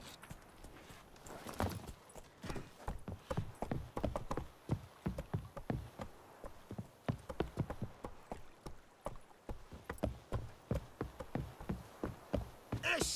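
Roach, the horse in The Witcher 3, clops along at a close, brisk and steady pace, its hooves sounding in a continuous rhythmic patter with faint ambient buzzing behind it.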